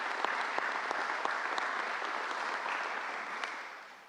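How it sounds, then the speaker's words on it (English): A crowd applauds at a political press event with the governor present, a steady, somewhat distant wash of clapping with a few sharper claps standing out, tapering off near the end. "Let's give them a big round of applause and thank them."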